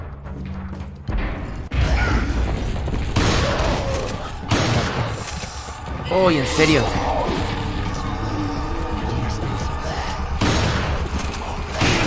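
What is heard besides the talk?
shotgun blasts at a padlock in video game Resident Evil 4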